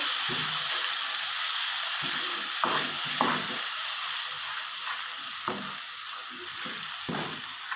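Masala with tomato paste fries for dhaba-style chana dal, a constant loud hissing sizzle broken by repeated scraping stirs of a spoon in the pan.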